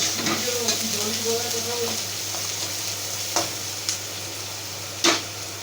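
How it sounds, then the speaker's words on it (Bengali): Chopped green chillies stir-fried in a pan, a steady close sizzle with a few sharp scraping clacks of the spatula, and a brief faint voice near the start. "দিয়ে এটা ভালো করে নাড়াচাড়া করে ভেজে নিতে হবে"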